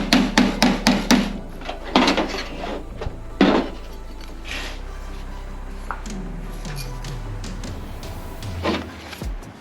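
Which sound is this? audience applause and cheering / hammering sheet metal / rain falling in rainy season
hammering sheet metal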